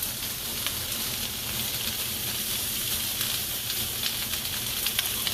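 Squeezed jarred garlic sizzles steadily in a hot frying pan, a close, even hiss of frying that holds without a break and with no voices over it.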